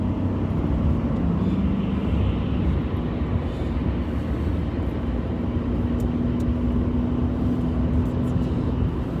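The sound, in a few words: Corvette C8 car passing on the inside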